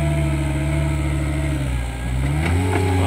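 Traction motor running on test after a bearing replacement, a loud steady mechanical hum with strong harmonic drone that dips briefly, then rises in pitch and speed again.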